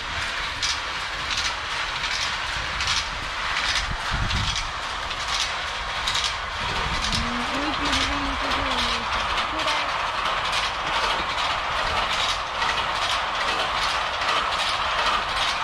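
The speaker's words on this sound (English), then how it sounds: "The banana train." A train rolls past steadily, its rumble and rail noise holding at a close, even level for the whole stretch, with a brief low tonal hum partway through and no talk over it.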